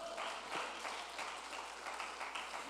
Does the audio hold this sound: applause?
yes